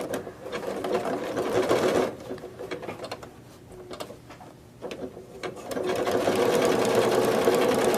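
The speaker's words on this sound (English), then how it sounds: "We'll sew for a little bit so I can get enough going through" A sewing machine runs close and loud while stitching quilt binding. Its rapid, even whirr pauses briefly midway and then carries on steadily, with no voice over it.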